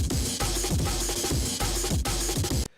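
A heavily distorted Amen drum break loops in a crushed, gritty wash, with punchy kicks and snares driving a fast, syncopated breakbeat rhythm under a constant roar of saturation that cuts off abruptly at the end.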